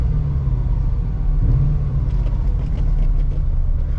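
A C4 Corvette with an LT4 V8 engine running near and steady, a loud deep idle rumble with a continuous low drone and slight unevenness, no voices over it.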